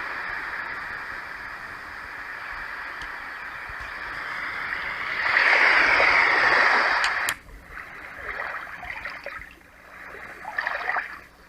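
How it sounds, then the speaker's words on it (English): Ocean sounds played from a roffie N600 white noise sound machine: a steady hiss of surf that swells louder midway, then breaks into softer rolling washes, continuous and close with no talking. "And then we have some ocean noises."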